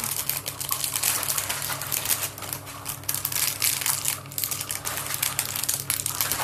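A plastic bag is crinkled and crushed close by, giving a dense, continuous crackle that keeps going with uneven bursts and no talking.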